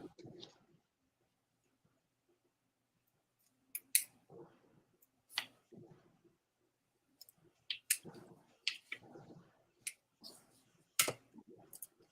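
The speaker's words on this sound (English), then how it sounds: "This scissors is not the best." Quiet, intermittent snips of scissors cutting, short sharp clicks scattered in small clusters with silence between them.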